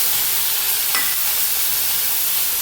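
Large-cut chopped tomatoes sautéing in a pan, a steady hissing sizzle with a brief scrape of stirring near the start, close and even, with no talking.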